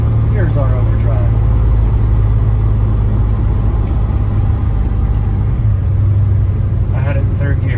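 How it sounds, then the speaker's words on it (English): A restored 1955 Chevrolet Bel Air cruises in overdrive at about 40 to 50 mph, its engine giving a steady, loud low rumble with road and wind noise throughout, while someone talks over it. "Now we're in overdrive, just cruising along."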